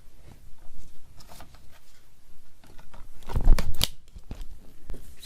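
Scissors cutting a paper sunflower shape out of a crafting sheet, with uneven snips and paper rustle, a louder cluster of cuts near the middle and scattered crinkles, close and alone.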